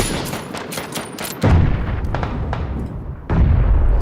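Gunfire in the battle royale game PUBG: Battlegrounds, several loud shots with sharp onsets and lingering echoing tails, a cluster early on and a heavy report near the end, with no talk over it.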